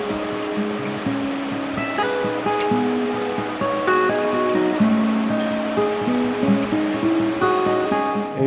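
A monsoon-swollen river in the Dooars flows past, a continuous broad rushing wash of water heard close by and without talk.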